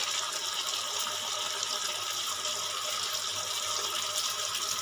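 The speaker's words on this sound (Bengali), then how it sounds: "এবার আমি এখানে দিয়ে দেবো অল্প পরিমাণে জল" Water poured into a pan of cooked-down spice mix for a vegetarian Bengali brinjal dish, a steady broadband splashing rush lasting throughout, close and even.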